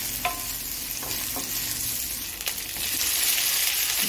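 Onion fries in hot mustard oil in a pan, a continuous close sizzle with a few clinks and scrapes from stirring.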